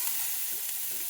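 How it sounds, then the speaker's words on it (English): Rice goes into a pot of softened, sizzling vegetables, a steady broad sizzle with faint stirring texture, fairly soft and continuous for about a second, with no voices. "we're going to add the rice into this pot right here."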